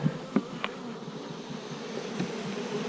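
Honeybees in an open hive low on feed, a steady close buzzing drone with a few brief louder bee passes near the start, no talking.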